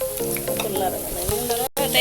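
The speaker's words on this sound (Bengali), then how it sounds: "এদিকে আমাদের বড়া ভাজা হইতেছে" Bora fritters fry in hot oil for an iftar meal, with a loud, continuous sizzle and stirring scrapes close by. A brief dropout occurs near the end.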